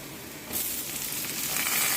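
Chopped onion drops into hot oil in a pan, and a faint background hiss jumps at once into a loud, continuous sizzle that holds to the end, with no voices.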